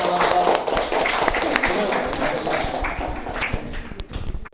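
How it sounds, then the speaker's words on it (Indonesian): A classroom audience at a teacher-training session in Cirebon applauds a student group after their project presentation: a dense, steady patter of many hands clapping, fairly loud and continuous, mixed with some talk. "aplaus untuk kelompok"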